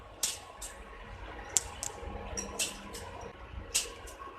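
Soaked, drained basmati rice is tipped into a pot of boiling water for ghee rice, giving scattered soft splashes and wet drips at irregular intervals, fairly quiet and close, with no talking.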